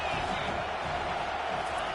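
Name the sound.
football stadium crowd cheering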